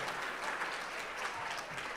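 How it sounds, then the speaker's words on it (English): Applause from an auction audience right after a $20,000 sale, a steady, even wash of clapping that fills the whole moment at moderate distance. "Let's give him a nice round of applause"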